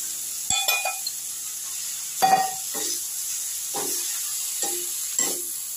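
Bread and a fried egg are stirred in a pan for an easy breakfast, a utensil clinking and scraping against the metal in separate strikes spaced a second or so apart over a faint background sizzle.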